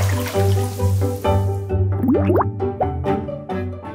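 Water drips and splashes while a toy ball is washed, with wet plops, squishy sounds and bubbly gurgles close by, cut into short bursts.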